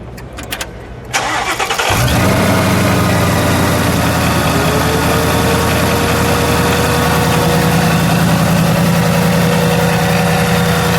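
A 2017 Shelby Super Snake Mustang engine cranks and fires, then settles into a steady, loud, close idle with a deep continuous rumble and no talk.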